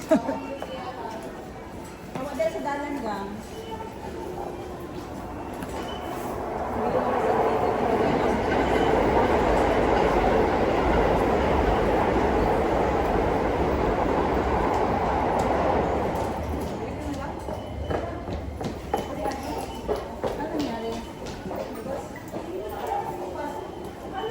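A train at a station for the last service of the night, a steady rumbling roar rising midway and holding for several seconds before easing off, with people talking throughout.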